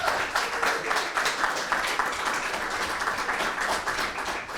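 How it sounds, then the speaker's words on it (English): Sustained applause from a crowd, dense clapping that holds steady throughout and tapers slightly at the end, with no talking over it. "So round of applause."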